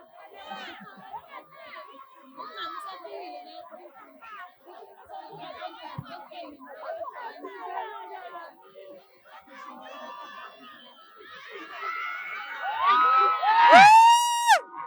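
A crowd at a South African birthday party cheers and shouts for a grand arrival, children's voices mixed with chatter, building to loud excited cries near the end.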